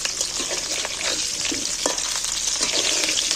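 Potatoes fry in hot oil with a steady, close crackling sizzle that runs throughout, broken by a few faint stirring clinks.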